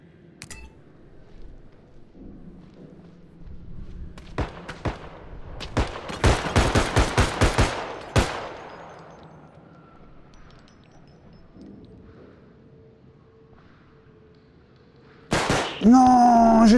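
Rapid bursts of gunfire from a realistic first-person shooter, several sharp volleys in quick succession, loud and close, with a quiet lull before a sudden loud burst at the end.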